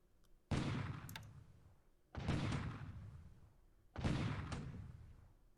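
Bombardment in the War in the Pacific strategy game: three heavy booming blasts spaced about two seconds apart, each with a long rumbling decay, loud and without talk.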